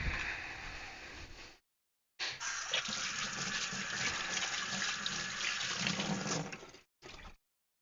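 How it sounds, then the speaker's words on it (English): Water runs steadily from a tap while a tank is filled with remineralized water, a broad hissing flow with a short pause near the start and a brief burst at the end. "Just about to fill up this tank with remineralized water as soon as I can get it over there"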